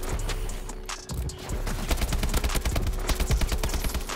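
AK-47 firing in the Call of Duty: Advanced Warfare video game, a dense, continuous stream of rapid gunshots with a brief dip near the start, loud and close throughout.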